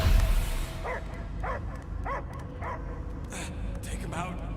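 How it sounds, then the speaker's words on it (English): Dog barking in a dramatic film scene, a series of sharp, evenly spaced barks and yips over a steady background rumble, with a brief whimpering sound near the end. "I hear only barking."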